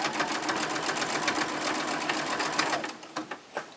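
A sewing machine stitches an exposed core cloth mermaid pad, running steadily at close range and then breaking into short bursts with pauses as it turns sharp corners.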